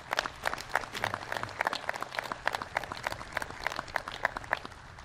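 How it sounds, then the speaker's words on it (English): A crowd applauds at an outdoor Memorial Day parade and ceremony in Westfield, with sharp, steady clapping held at an even level throughout. "how about a round of applause for Westfield"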